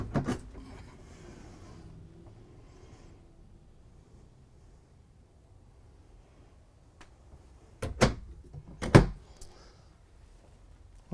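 Drawer in a 2022 Newmar Ventana 4369 RV slides and bumps shut, two sharp thuds close together near the end after a quiet stretch and a brief knock at the start.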